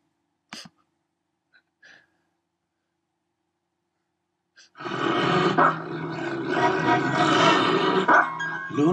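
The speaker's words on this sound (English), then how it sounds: "here's a wolf growl" Near silence with a few tiny clicks gives way to a continuous, loud, raspy wolf growl from a sound effect sample that rumbles on steadily to the end.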